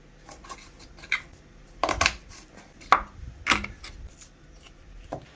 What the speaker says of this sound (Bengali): এগুলো টুকরো টুকরো করে কাটছি